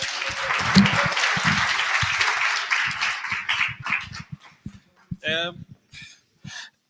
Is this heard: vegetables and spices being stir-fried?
no